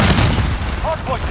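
A grenade goes off in the online shooter Call of Duty: Modern Warfare, one loud, dense burst of low booming noise that fills the whole short moment, with gunfire-like crackle and game voice chatter mixed in.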